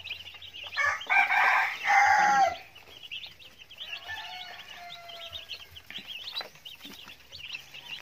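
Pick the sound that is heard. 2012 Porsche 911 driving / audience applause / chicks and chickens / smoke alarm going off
chicks and chickens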